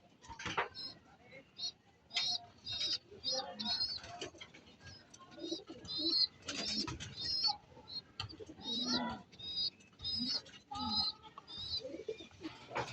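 Pigeons make repeated soft cooing and burbling calls close by, layered and overlapping with occasional wing rustles, while a person talks quietly in between.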